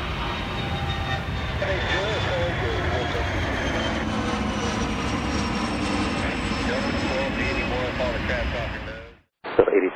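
A jet airliner roars down runway 27 right at Atlanta's airport on takeoff, a loud, sustained broadband rush with a high engine whine, faint radio voices underneath, cutting off abruptly near the end.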